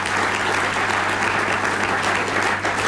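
A studio audience at an Italian MTV interview show claps steadily and loudly, a dense continuous wash of applause with no voices over it.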